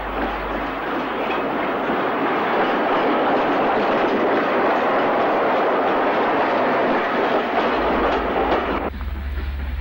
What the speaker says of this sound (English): The down train arrives behind D1615, just over 2 years old at this time.